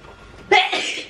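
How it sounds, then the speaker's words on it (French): A single sharp sneeze bursts out close by in a kitchen, sudden and loud after a brief quiet lead-in, then trails off quickly. "J'ai envie d'éternuer."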